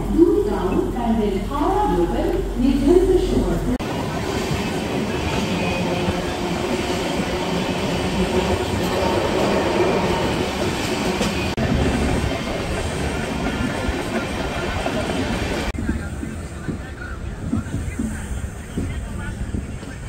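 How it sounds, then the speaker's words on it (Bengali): The Gour Express, a Malda to Sealdah train, pulls out of Bandel station with a steady low rumble and rattle of the wagons that runs throughout, while a voice speaks over it. "এবার আমাদের ট্রেন ব্যান্ডেল ছেড়ে বেরিয়ে যাচ্ছে"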